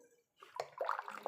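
Water poured into a pot of boiling mutton curry, a short splashing gush that starts after a quiet moment and swells into several bubbly sloshes, close and fairly soft.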